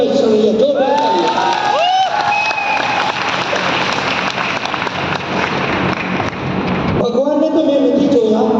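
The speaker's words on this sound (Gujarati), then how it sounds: "જોરદાર તાળી" A crowd applauds and cheers loudly at a stage event, a dense sustained wash of clapping and shouting voices that briefly dips near the end before surging again.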